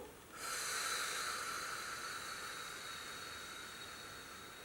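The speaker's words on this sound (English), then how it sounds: "Blow out for a straw." A long, forceful exhale through pursed lips during a breathing exercise starts abruptly and holds as a steady, airy hiss for several seconds, close and alone.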